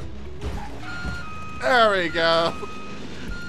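A vehicle's reversing alarm beeps in the Watch Dogs Legion video game as two loud tonal bursts in the middle of the clip, with someone talking before and after.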